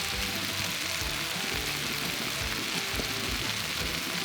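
Bacon and halved cherry tomatoes sizzle on a Blackstone flat-top griddle, a steady, dense, rain-like crackle that runs loud and unbroken throughout with no talking.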